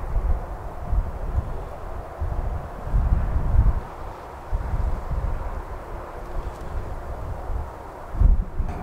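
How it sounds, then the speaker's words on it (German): Strong wind buffets a microphone outdoors during a first flight of a DJI Mavic Mini drone, loud rumbling gusts that swell and ease, with a sharper blast near the end and no speech. "Also die Windgeschwindigkeit ist recht hoch."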